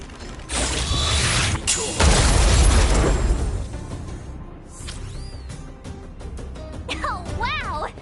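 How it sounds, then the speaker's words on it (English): An automaton stealth bomb explosion in the video game Aetherium Wars: a heavy rumbling boom with creaking mechanical noise swells and slowly dies away, followed by warbling electronic tones, with game voices speaking around it. "We wiped them all out in a single explosion!"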